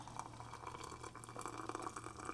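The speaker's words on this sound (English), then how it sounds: "then you just pour the hot water over it" Hot water pours from a kettle over a PG Tips tea bag in a cup, a faint, steady gurgling trickle lasting a couple of seconds with no voices.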